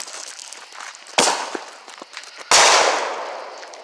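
Consumer fireworks set off outdoors, with two sharp, loud bursts about a second apart, each followed by a crackling, fizzing tail that fades, over faint background noise.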